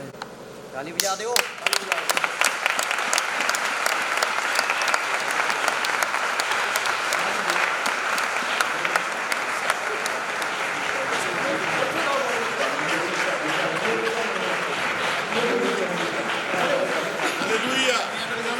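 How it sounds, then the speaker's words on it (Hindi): Sustained, dense applause from a church congregation at a bishop's ordination service at St Luke Church, Jalandhar Cantt, opening with a few sharp claps and then holding a steady, loud wash of clapping throughout. "ताली बजा दो"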